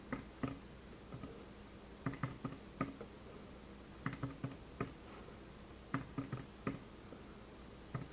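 Prices are entered on a computer keyboard in quiet, uneven clusters of soft key clicks, close and faint, with no talk.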